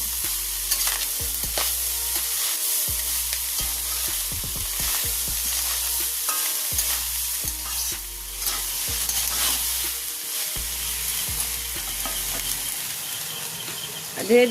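Fried rice with ghee being stirred and fried in a pan, a continuous close sizzle broken by frequent quick scraping and tapping strokes of a spoon against the pan.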